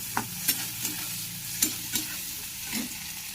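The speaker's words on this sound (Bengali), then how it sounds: "আলুটা দিয়ে দেবো পেঁয়াজটা দিয়ে দিচ্ছি কাঁচা লঙ্কা একটা আলুটা একটু লাল লাল করে ভেজে নেব" Potatoes frying in a pan with onion and green chili, a steady sizzle broken by several sharp scraping stirs of a spatula, close and moderately loud with no talking.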